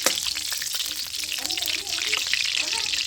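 Cloves and green chillies frying in hot oil while tempering fresh green corn in a village kitchen, a steady dense crackling sizzle throughout with faint background voices.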